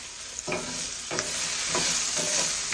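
A chicken dish sizzles steadily in a pan, with soft scrapes from stirring that come at regular intervals over a continuous frying hiss and no talking.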